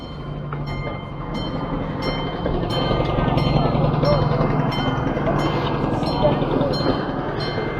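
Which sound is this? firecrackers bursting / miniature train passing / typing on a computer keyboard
miniature train passing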